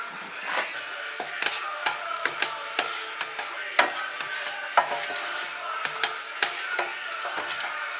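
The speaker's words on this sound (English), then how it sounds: "fry this for another minute. And give it a good stir." Lamb meatballs fry in oil infused with a cinnamon stick, sizzling quietly under repeated sharp scraping and clicking strokes of a spoon stirring the pan. The sound is close and rhythmic, with no speech.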